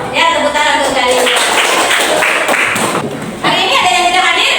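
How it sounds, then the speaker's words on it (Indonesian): A class of students claps together in a burst of rhythmic cheering clapping, loud and close, with young voices chanting along over the hands. "Ya, tepuk tangan untuk kalian."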